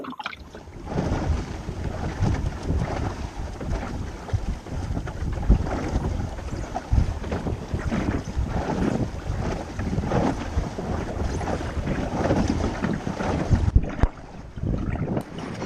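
A sailboat runs along the sea between Exmouth and Teignmouth on a fine day, with strong wind buffeting the microphone and water rushing past the hull in a steady, loud wash.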